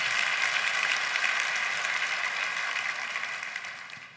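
Church congregation applauding together in a sustained, dense wash of clapping that stays loud and even before fading slightly toward the end, with no talk over it.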